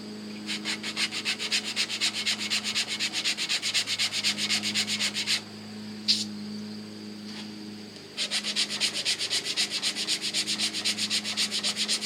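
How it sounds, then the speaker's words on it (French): Abrasive belt on a stationary bench belt sander, stopped, being rubbed for cleaning: a steady, dense scraping rasp, close and fairly loud, that pauses for about three seconds midway with a faint knock before resuming. "Je vais vous faire une petite démo sur la ponceuse à bande sur socle"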